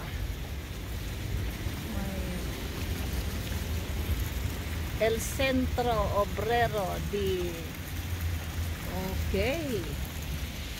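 Steady rain hisses throughout the clip in a park in A Coruña, Spain, and a person speaks over it near the middle and again toward the end.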